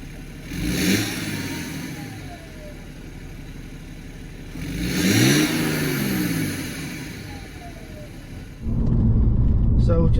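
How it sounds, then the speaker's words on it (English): A BMW E91 diesel with a stage 1 remap and DPF, EGR and swirl flap delete revs up in two rising surges before settling, then a louder, closer engine rumble takes over at the end. "So we'll just start the car, go for a little drive and see what it's like."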